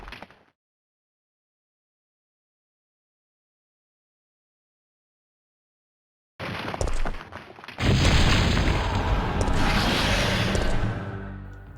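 Grenade launcher loaded with acid rounds firing in Resident Evil 3: Nemesis on PC, a loud booming blast after a long silence, followed by sustained rumbling and hissing game noise.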